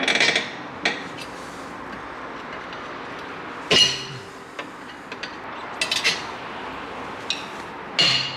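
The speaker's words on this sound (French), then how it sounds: "Donc j'y suis allé au marteau pour le faire vibrer" A hammer knocks on a seized brake part on a BMW E30 to loosen it: a handful of sharp metallic strikes spaced seconds apart over a quiet workshop background.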